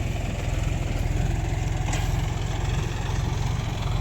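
A low, steady motor hum drones continuously up close, an even electric pump running without pause.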